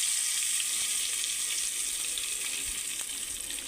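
Kasuri methi hitting well-heated oil in a pressure cooker gives a steady, bright hiss of frying that fades slightly over a few seconds, close and fairly quiet, with no talking.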